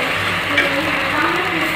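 Ginger garlic paste going into a hot pan with mint for chicken biryani: a dense, loud, continuous sizzle with little change over the short stretch.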